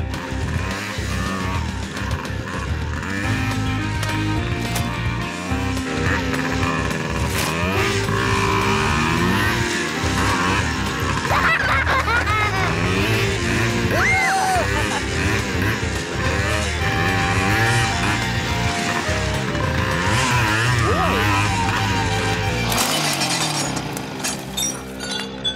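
A cartoon motorcycle engine from the animated series Prostokvashino drones and revs continuously for about twenty-five seconds, its pitch rising and falling with clinks and skidding-like noises, then drops away near the end.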